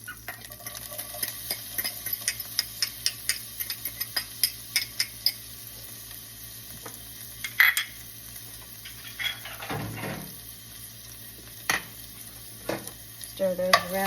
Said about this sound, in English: Stir those around a couple minutes.